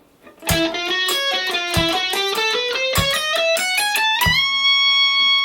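A fast run of plucked, bell-like notes climbs in a steady sextuplet rhythm at 110 BPM, punctuated by regular low thumps, ending on a sustained chord.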